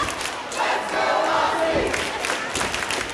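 Loud wrestling arena crowd cheering and chanting for Princess Aussie during a women's wrestling match, a sustained roar of many voices with rising shouts throughout.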